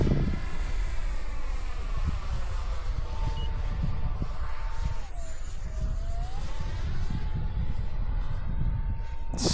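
A radio-controlled Batwing flying wing fitted with a gyro passes overhead, its electric motor giving a steady, loud whine that rises and dips in pitch as it flies by, with outdoor wind noise throughout.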